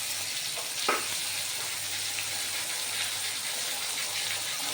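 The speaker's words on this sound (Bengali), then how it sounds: "খুব ভালো করে মশলাটা ভেজে নিচ্ছি।" Spices, bay leaf, turmeric, cumin and ginger paste frying in hot oil for a fish-head mung dal, a steady close sizzle with a brief clatter of stirring near the start.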